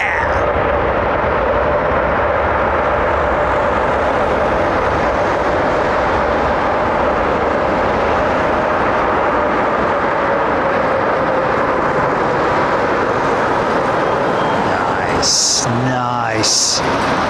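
An airliner landing at London Heathrow runway 27R, a loud, sustained broadband roar of engines and reverse thrust rushing past, with a few brief clicks and a short voice near the end.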